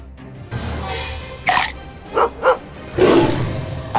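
A little dog yips and barks in a bedtime-story retelling of Dorothy and the Wizard of Oz, several sharp, close barks in quick succession, alone without talk.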